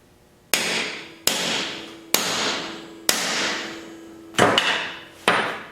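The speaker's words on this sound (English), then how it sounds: "So I'm finished riveting the sockets in" A hammer drives rivets into tube sockets on an EH Scott Philharmonic radio chassis: six sharp metallic blows, each ringing out briefly, spaced about a second apart, close and loud with no talking.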